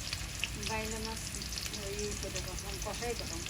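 Onion frying in hot oil on a stove for a river fish and potato bhuna, a continuous sizzle under a steady hum with faint bits of voice in the background.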